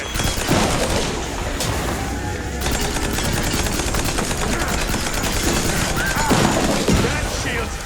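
Rapid rocket fire in Mouse: P.I. For Hire, a steady, dense stream of repeated blasts and bangs running the whole time, with voices and game sounds mixed in.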